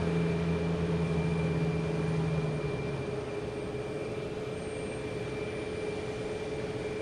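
Air France airliner at Boston Logan Airport, a distant low jet rumble with a faint whine, steady and quiet, an engine tone fading after a few seconds, no talking.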